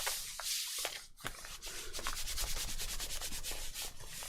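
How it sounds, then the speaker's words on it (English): Hand sanding and rubbing down a junk journal page, a steady rapid scratchy back-and-forth of strokes, close up and fairly loud throughout. "a little bit of rubbing and we'll soon be there"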